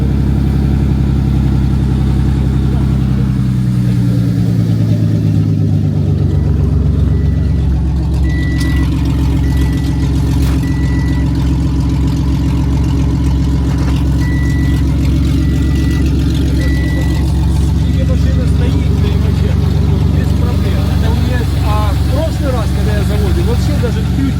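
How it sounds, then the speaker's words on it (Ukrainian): An old American muscle car engine idles steadily and loudly up close, with a deep continuous rumble that shifts pitch early on, and a voice talking over it. "як працює мотор. Нічого не шумить"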